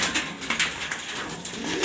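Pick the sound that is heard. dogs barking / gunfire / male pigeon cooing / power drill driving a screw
male pigeon cooing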